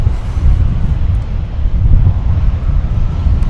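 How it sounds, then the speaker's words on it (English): Strong wind buffets the microphone at DFW Airport, a steady low roar with gusty swells that never lets up, close and loud, with no voices. "I got a little distracted there by the velocity of the wind, the increasing velocity of the wind here"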